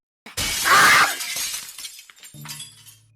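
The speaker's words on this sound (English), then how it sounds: "I've got the nice glass shatter effect and everything" A glass shatter effect plays in a Roblox Squid Game recreation, a sudden loud crash of breaking glass followed by tinkling debris that fades out, then a short tonal game sound at the end, with no talking.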